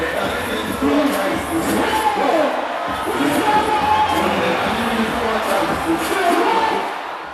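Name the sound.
crowd of music lovers cheering at a concert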